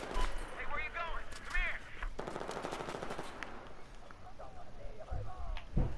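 Rapid automatic gunfire in a Battlefield 4 Gun Master match on an old Battlefield 3 map, loud dense bursts with a few gaps, while a voice talks over much of it.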